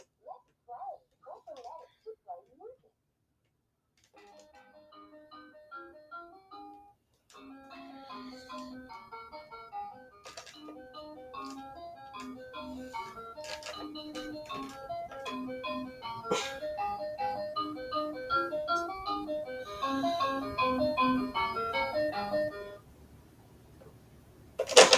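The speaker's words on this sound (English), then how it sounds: "starting with the Leap's Phonics Pawn, I have to press 4 different letters to hear the whole thing" A LeapFrog Phonics toy plays a bright, tinkly electronic alphabet-song melody in short separate segments, with a brief chirpy sound at the start and a gap before the tune runs steadily to the end.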